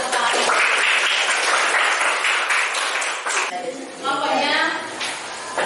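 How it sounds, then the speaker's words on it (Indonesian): A group of teachers at an academic coaching and supervision session claps together, loud and dense at first, then thinning into scattered claps with voices talking over the tail end. "Kita tepuk tangan."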